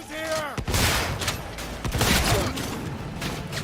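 Bursts of gunfire in Cyberpunk 2077, loud rapid shots rattling close by in a few clustered volleys, with a mechanical whir at the start and faint background talk.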